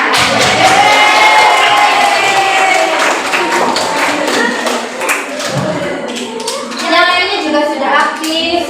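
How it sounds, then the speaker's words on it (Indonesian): Schoolchildren in a classroom clap and cheer loudly together, with a crowd of young voices shouting and chattering throughout and a few thumps and taps mixed into the noisy, sustained applause. "silakan tepuk tangan"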